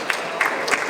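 An audience applauds at a startup competition final, brief scattered claps rising in a few bursts over a low room murmur.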